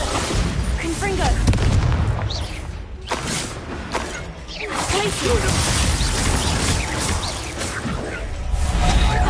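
A Confringo fire spell blasts in Hogwarts Legacy, a loud whooshing, booming burst amid continuous dense combat noise with rumbling lows and crackling highs, several surges across the stretch.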